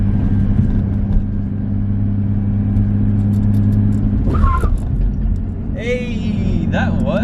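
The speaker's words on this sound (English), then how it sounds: "We finally have a Skyline that's doing handbrakies" Nissan Skyline drift car doing handbrake turns, a loud steady engine drone near the listener, joined later by brief tyre squeals, with people talking over it.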